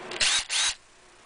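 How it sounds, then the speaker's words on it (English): Cordless drill used to straighten thin wire for a model railroad chain link fence, running in two short loud whirring bursts with a brief gap, then stopping. "cordless drill"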